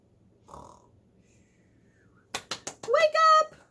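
A child imitates a sleeping dragon with a few short snorting, breathy snore noises ending in a drawn-out voiced growl, preceded by a faint breath.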